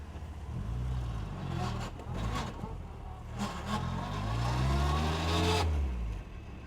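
A 1960 Bugeye Sprite pulling away in second gear from a slow roll, its small engine revving up and down through low growling pulls, heard from inside the car.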